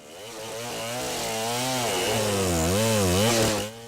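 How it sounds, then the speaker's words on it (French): A chainsaw cutting trees in a Congo Basin forest roars steadily and loud, its engine pitch rising and wavering as it bites into the wood before cutting off abruptly at the end. "les tronçonneuses qui s'acharnent sur les forêts du bassin du Congo"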